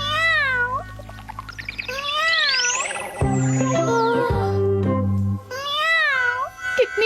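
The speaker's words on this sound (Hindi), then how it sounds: "ओ नहीं, बेचारी बिल्ली।" Cartoon cat from a Doraemon episode meowing in repeated high, wavering cries at the start and end, with sliding musical sound effects and tones in between, loud and close.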